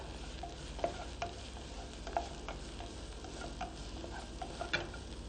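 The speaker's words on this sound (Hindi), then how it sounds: "जब गार्लिक हल्का सा भुन जाए तो उसके अंदर छोटा कटा हुआ प्याज डालें और इसके साथ इसमें तेज पत्ता डालें" Garlic, finely chopped onion and bay leaf frying in a pan on a cooking show, a steady close sizzle with scattered ticks and light stirring scrapes, no talking.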